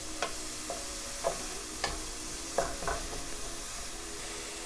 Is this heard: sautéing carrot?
yes